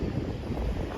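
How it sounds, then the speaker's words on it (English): Strong wind buffets the microphone on an eroding beach at Hemsby, a loud, rumbling, continuous roar with no voices. "so I hope you can hear me through all this wind"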